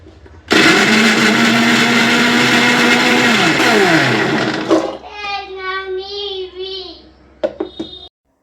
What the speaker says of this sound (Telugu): మిరియాలు వేసి ఒక్కసారి మిక్సీ పట్టుకుంటే